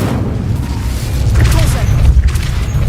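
The Incendio fire spell cast in Hogwarts Legacy, a loud, deep whooshing boom with crackling fire that builds and sustains through the burst, with some mechanical rumbling.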